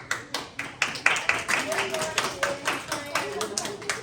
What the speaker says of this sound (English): Come on, let's give Winston a clap.